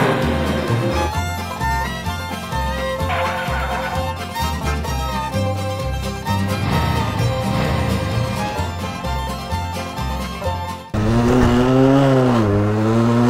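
A 50cc motorcycle engine on a bumpy small road, with strong rising and falling revs that become clearest near the end, mixed with loud steady mechanical drone throughout.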